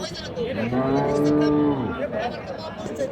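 A cow at the Dhap cattle market in Bogura lets out one long, deep moo that swells and then fades. Faint market chatter and crowd noise sit underneath.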